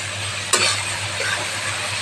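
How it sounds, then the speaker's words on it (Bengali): Green chilli and spices being stirred in a frying pan, a steady sizzle with one sharp scrape of the spoon against the pan, no voices. "কাঁচা লঙ্কাটা দিচ্ছি, ভালো করে মিশিয়ে নিই।"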